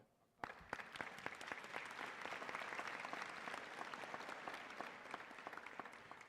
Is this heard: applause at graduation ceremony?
yes